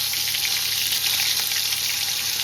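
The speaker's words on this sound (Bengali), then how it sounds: "তেলটা গরম হয়ে গেছে, পটলগুলো ছেড়ে দিই।" Sliced pointed gourd (potol) frying in very hot oil, a steady loud hiss and sizzle that stays even throughout with no voices over it.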